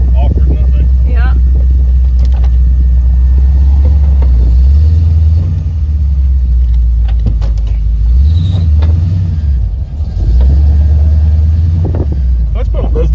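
An old Jeep Jeepster engine runs while driving, a loud continuous low rumble that rises and falls with the throttle and gear changes. Occupants talk over it.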